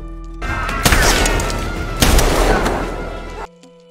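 Gunfire from an action film, a dense burst of shots with two sharp louder cracks standing out over a rumbling, sustained barrage that cuts off abruptly near the end.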